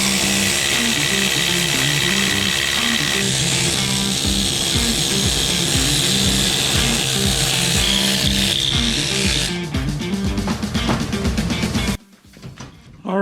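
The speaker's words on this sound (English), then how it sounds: "that scaler did really good on getting the rest of that rust off there, the heavy rust anyways" Loud, continuous rapid hammering rattle of an air-operated needle scaler chipping heavy rust off Ford F250 truck front-axle parts; it runs steadily, then cuts off abruptly near the end.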